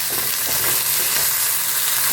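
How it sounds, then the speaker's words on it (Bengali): Cabbage frying in oil in a wok while being stirred, a loud, dense sizzle with continuous scraping of the utensil, heard close up without talk. "এই কড়াতেই বাঁধাকপিটা একটু গরম করে নেব। আর একটু তেল দিতে হলো"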